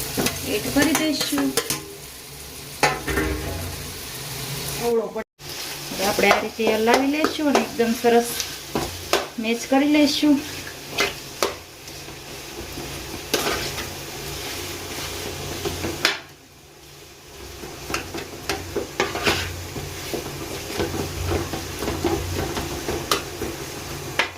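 Boiled potatoes are stirred into a sizzling masala for masala dosa, with continuous spatula scraping and stirring over a steady frying sizzle. A voice talks intermittently over the cooking.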